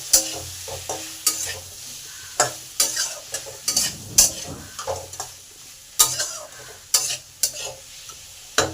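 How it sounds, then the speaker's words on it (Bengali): Pumpkin pieces and vegetables frying in a pan are stirred with a utensil. Repeated scraping strokes and clinks rise in sharp bursts over a soft sizzle, close and irregular, continuing for several seconds. "কুমড়োটাকে ভালো করে এর মধ্যে নেড়ে নিই"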